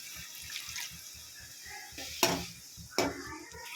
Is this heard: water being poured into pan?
yes